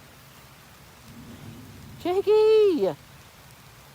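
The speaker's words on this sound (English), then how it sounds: "It's lightning and thundering out here." Heavy rain pours down steadily outdoors during a thunderstorm, a constant wash of noise, while a person shouts a short call loudly over it near the end.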